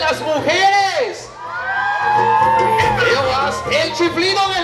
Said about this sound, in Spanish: Y yo quiero escuchar el grito de las mujeres.